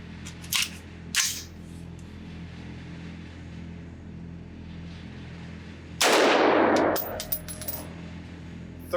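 Suppressed 5.56 rifle shots through a B&T lightweight titanium .30 cal suppressor at an outdoor range: two sharp reports early on, then a longer loud burst with a decaying tail, heard at close range.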